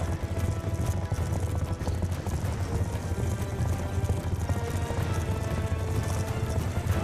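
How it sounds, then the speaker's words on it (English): Horse hooves clip-clopping at a steady trot in the Afghanistan level of Call of Duty Black Ops II, a continuous rhythmic thudding set against a dense, loud game soundscape with low rumbling. "So essentially that horse is following my laser, literally."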